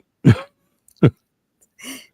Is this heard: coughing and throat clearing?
yes